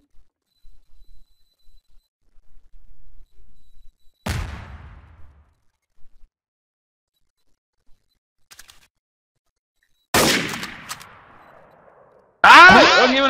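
Sparse gunshots in the shooter game Trouble in Terrorist Town, a single sharp shot followed by a quick close burst and another loud shot with ringing tail, separated by quiet gaps and faint clicks.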